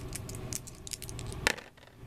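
Dice rattle and tumble on a table during a tabletop board game, a quick clatter of small hard clicks that ends in a sharp settling tap, close and fairly quiet with no talk.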